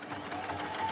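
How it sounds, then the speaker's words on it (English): A sewing machine stitches two fabric pieces together, a fast, even, whirring buzz that runs steadily and close for the whole second. "I'm sewing these two pieces together to redeem my mistake"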